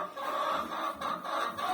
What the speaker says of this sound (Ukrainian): Щось курка розказує